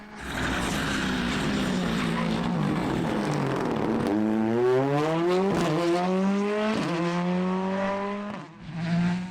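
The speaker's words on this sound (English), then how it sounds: "Daniel Doherty fires up the launch sequence on his Fiesta R5 and sets off on a mission" A Ford Fiesta R5 rally car engine revs hard and climbs through rising pitch as it launches away from a stage start, loud and close, with quick gear changes.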